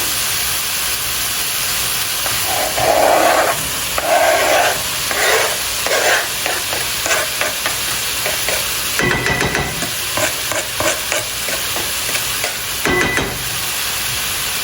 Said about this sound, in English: while the bacon is browning, I'm going to dump the onions in here so everything can cook, simultaneously